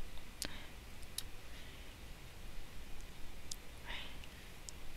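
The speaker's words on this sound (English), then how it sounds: "we're going to click on the Browse icon" Computer mouse clicks on a browse icon, a few faint sharp isolated clicks spread over quiet background hiss with a soft breathy voice.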